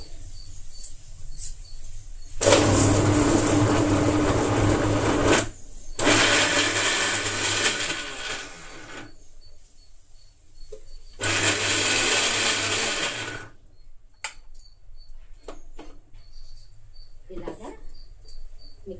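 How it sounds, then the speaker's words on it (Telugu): A mixer grinder whirs loudly while grinding elephant yam dosa batter in three separate bursts of a few seconds each, with quiet gaps and a few small clicks between them. "జస్ట్ కొంచెం వేసుకొని మిక్సీ పెట్టేసుకోవాలి"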